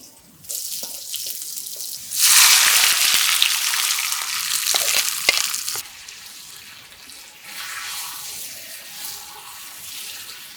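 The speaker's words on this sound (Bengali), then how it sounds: "এখন আমি উঠাইয়া সরিষার তেল দিয়া বাগার দিই বাগার দেওয়ার জন্য পেঁয়াজ রসুন আর এই কয়টা শুকনো মরিচ দিছি" Onion, garlic and dried red chillies dropped into hot mustard oil for a Barishal-style black beef bhuna burst into a loud, bright sizzle that settles into a quieter steady hiss, with a few spoon clicks.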